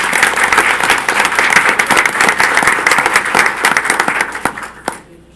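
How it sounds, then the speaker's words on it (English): A steady round of applause from an audience at a board of education meeting honoring cross-country athletes, with a few sharper individual claps standing out before it fades quickly at the end. "One more round of applause for these"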